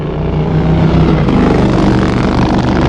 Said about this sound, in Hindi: बातें करने के बाद दिलीप और करण बाइक पर घर जा रहे थे।